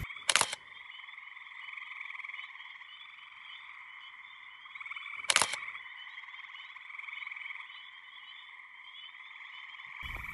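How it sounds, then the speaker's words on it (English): A bullfrog at a lake in a state park gives a continuous low croaking drone at moderate volume, broken by two sharp camera shutter clicks and another click at the end. "Big old bullfrog."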